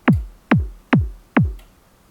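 A synthesized trance kick drum made in Reason and played with its effects bypassed gives four evenly spaced punchy thumps with falling pitch, close and dry, alone.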